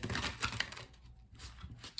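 Tarot cards being shuffled by hand, a quick flurry of crisp, papery riffling and tapping that is loudest at the start, pauses briefly, then resumes with a few softer flicks and a final snap.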